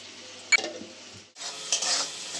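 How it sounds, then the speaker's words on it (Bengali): Spice paste for an arhar dal malai curry is sautéed in a pan, with a steady sizzle, one sharp utensil clink early on, and a louder burst of frying and stirring in the second half. "মশলাটা একটু কষিয়ে নেব"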